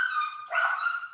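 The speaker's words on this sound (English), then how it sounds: "My neighbor's dogs were barking right before this started" A neighbor's dogs heard barking or whining from nearby, a clear, tonal yelp-like vocalization in two close bursts with no talk over it.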